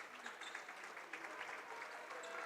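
A basketball crowd at a women's college game applauds and cheers a visiting team's victory, with steady clapping and scattered shouts, moderately faint and continuous, with some talking mixed in.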